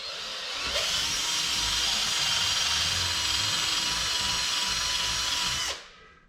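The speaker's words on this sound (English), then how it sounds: "I'm gonna have to drill the holes for it" A power drill bores holes through a new ribbed mud flap on a Kenworth W900L truck, running as one steady, loud, close whine for about five seconds before cutting off.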